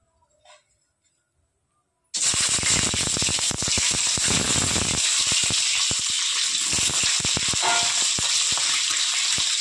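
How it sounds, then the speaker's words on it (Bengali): After a quiet start, an egg drops into hot oil in a wok and erupts into a loud, dense crackling sizzle that holds steady with sharp popping spatters throughout. "তেল গরম হয়ে গেছে, প্রথমে ভেজে নেব ডিম"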